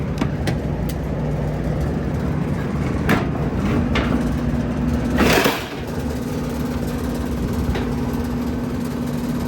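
A rooftop HVAC air conditioning unit with gas heating runs and cools, giving a steady close-up mechanical hum with a low tonal drone, scattered light clicks and a brief louder whoosh of air partway through.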